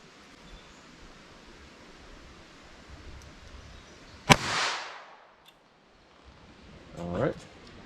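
A single sharp crack of a .22 LR Remington Thunderbolt round fired from a snub-nosed revolver rings out over quiet background, followed by a brief fading tail and a faint rustle a few seconds later.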